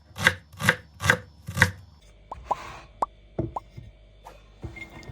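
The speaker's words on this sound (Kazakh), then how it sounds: "Енді ұсақтап тураймыз" Knife chopping onion on a board: four firm, evenly spaced chops, then lighter irregular taps and knocks that trail off into quiet.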